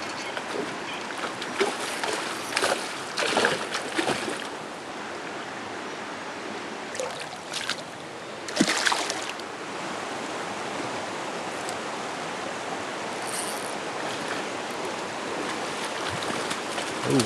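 Creek water flowing steadily around a wader while fishing, a constant close rushing wash with occasional splashes and louder bursts, no talking.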